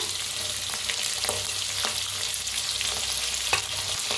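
Peanuts, onion and green chillies fry in a pan with mustard seeds, a dense continuous sizzle with occasional light scrapes and pops.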